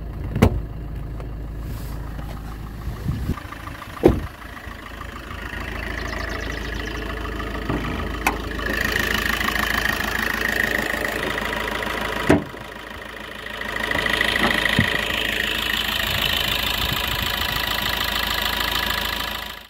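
A Suzuki Ertiga diesel hybrid engine idling under an open hood, a steady low mechanical drone with a faint diesel clatter and occasional clicks, alone without talk.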